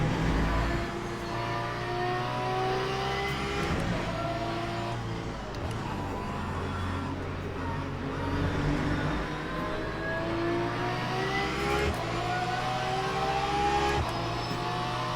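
A race car engine in a racing sim revs and holds a steady, loud drone, its pitch climbing and dropping with shifts and acceleration throughout, with no voices over it.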